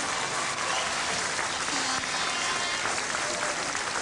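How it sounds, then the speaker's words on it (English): Audience applause at an award ceremony as the third-place winner is presented, a dense steady wash of clapping that fills the whole stretch without letting up. "Give a round of applause, ladies and gentlemen."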